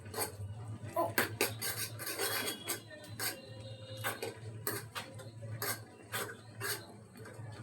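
Buldak spicy ramen noodles are stirred with their sauce using a utensil, giving soft irregular scraping and tapping against the container. The sounds come close and fairly quiet over a low hum.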